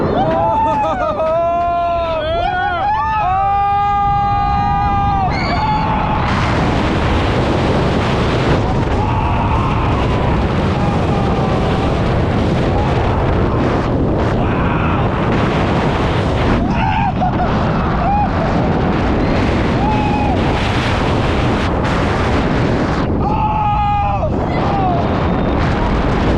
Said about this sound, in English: Tell me that wasn't the most ridiculous sense of speed ever on a coaster